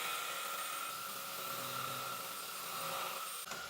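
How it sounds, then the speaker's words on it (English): A MOOSOO K17 Pro cordless vacuum cleaner runs on max suction, a steady, loud, close whine with a bright tonal hum that holds constant throughout, then briefly dips near the end. "Now watch the suction power."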